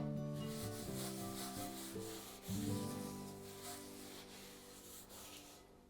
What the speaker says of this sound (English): It may be helpful to use a paper towel to help you evenly distribute the oil and remove any excess oil.